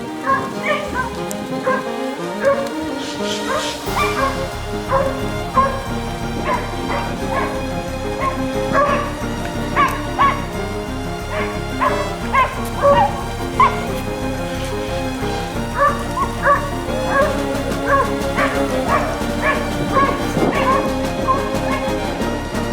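Hunting hounds bark and yelp continuously in an excited chorus during a hunt, some near and some farther off, with whimpering mixed in and a soft patter of rain.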